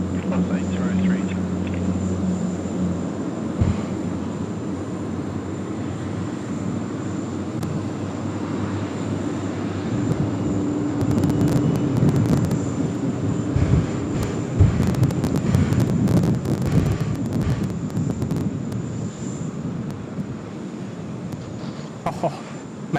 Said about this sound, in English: magnificent engine start sounds there from those 4 big Rolls-Royce engines